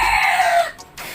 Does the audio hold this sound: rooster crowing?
yes